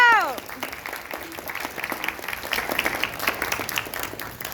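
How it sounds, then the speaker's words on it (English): Applause from an audience at an esports team speech, as a graduating player is recognised; steady clapping rises and holds after a brief spoken phrase at the start, fairly close and dense. "Can I get a round of applause for my boy?"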